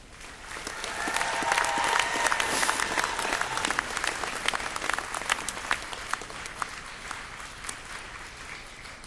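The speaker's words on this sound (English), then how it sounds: "Very good clapping." A graduation ceremony audience claps steadily, a broad wash of applause that swells early and then holds with scattered distinct claps, heard from within the hall.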